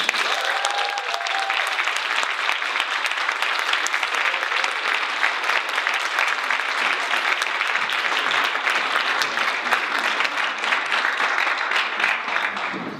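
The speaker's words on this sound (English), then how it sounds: "please give a huge round of applause and all your SSDP love to Kemba Smith." An audience at a drug-policy conference gives sustained, loud applause for a keynote speaker, dense clapping that fills the room steadily for over twelve seconds.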